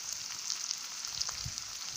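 Onion dropped into hot mustard oil, a steady faint hiss and crackle of frying with soft sputtering pops, close and continuous with no talk.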